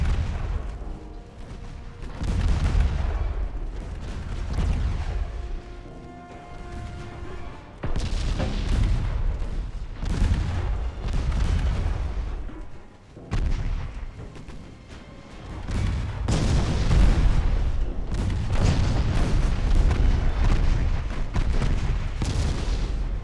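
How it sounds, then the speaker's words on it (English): Heavy warship main guns boom repeatedly in the naval strategy game Ultimate Admiral Dreadnoughts, with loud, dense salvos and rumbling blasts that roll on with little pause. "At least our main guns hit really do a number."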